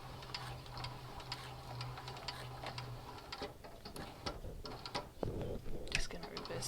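A Cowboy CB6900 sewing machine stitches a dog collar, its mechanism running in a steady, fairly quiet whir with small ticking clicks. The run briefly falters before louder clunks and rattles near the end, consistent with reversing.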